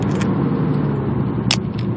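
Steady, close car traffic drones continuously, with an engine rumble and a couple of brief higher hisses or squeaks over it.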